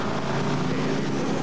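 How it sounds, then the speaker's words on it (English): A Mack big rig truck pulling down a track at a 1994 truck pull in Tomah, Wisconsin, its engine roaring loud and continuous as it builds boost, with wind noise mixed in. "J.R. Collins starts to fill the boost and all kinds of Mack horsepower coming down the track"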